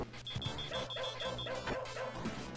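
A charging dog in a Sega Genesis game gives a run of short, repeated chiptune-style barks, evenly spaced over a steady tonal beep and background game music, fairly quiet.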